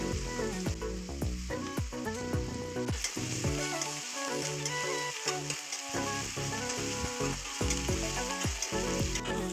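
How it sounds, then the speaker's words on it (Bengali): Onions and chillies frying in four spoons of hot oil in a wok crackle loudly and continuously, with frequent spatula scrapes and clinks against the metal, close and dense, with no voices. "এরপর আমি পেঁয়াজ এবং লঙ্কাগুলো ভালোভাবে ভেজে দেব।"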